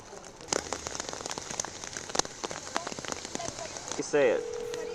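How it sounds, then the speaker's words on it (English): Heavy rain falling hard during a California storm, a dense steady hiss with scattered sharp drop impacts, fairly close, with brief bursts of talk and a tonal sound near the end. "Look how hard it's raining."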